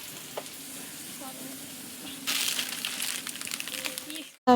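Vegetables frying in a pan on a home stove, a steady soft sizzle that swells louder and brighter when fresh pieces go in, with quiet kitchen clatter and a brief voice nearby.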